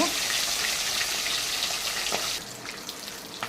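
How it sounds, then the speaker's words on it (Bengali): Fish fries crisp in a hot pan with green chilli and ginger, a steady bright sizzle that softens toward the end, with faint stirring noises close by. "এইরকম করে কড়া করে আমি মাছটাকে ভেজে নেব।"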